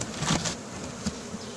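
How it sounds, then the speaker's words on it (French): A steady swarm of honeybees buzzes close by in a cardboard box, a dense continuous hum with no voices. "Il reste très peu d'abeilles en haut"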